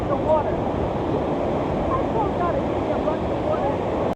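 Ocean waves break and surge continuously on the shore at Hunting Island Beach, South Carolina, a steady loud wash of surf with wind noise across the microphone.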